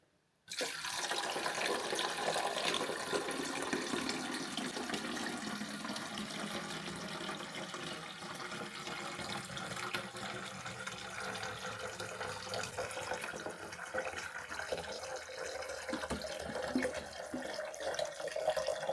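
Water pours steadily into the water tank of a DeLonghi Dedica Maestro Plus espresso machine for about eighteen seconds, a continuous close splashing rush that shifts slightly in tone as it fills.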